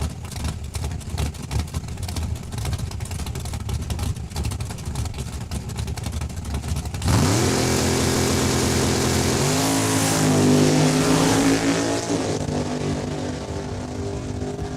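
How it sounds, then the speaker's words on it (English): Drag race car, the Neighbors Mechanical Chevrolet Cavalier driven by Wayne McKinnon, making a single pass at Saskatchewan International Raceway; a loud, close engine roars in at launch and holds a steady high-revving drone with gear changes, after a stretch of rough idling and track noise. "Wayne McKinnon looks like he's got the single pass with the Neighbors Mechanical Cavalier."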